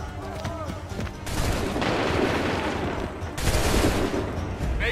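Musket volleys in Assassin's Creed 3 roar out as two broad, loud blasts of massed gunfire with a rumbling tail, each preceded by shouted battlefield commands.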